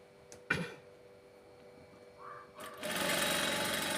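A sewing machine starts after a few faint clicks and a handling bump, then runs steadily at close range, stitching thread piping onto a blouse in a fast, even mechanical whir.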